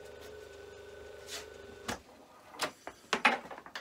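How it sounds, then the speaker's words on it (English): A Myford ML7 lathe motor runs without load, giving a steady close hum for about two seconds before it cuts out, followed by a few scattered clicks and knocks. "The motor on the ML7 sounded okay when there was no load."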